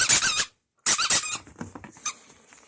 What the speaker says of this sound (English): I need to show you the squeaker ball